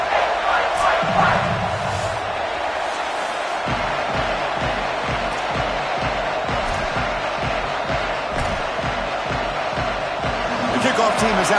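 Home stadium crowd in a college football video game roars loudly, with a rhythmic thumping pulse under the constant din and a voice speaking over it.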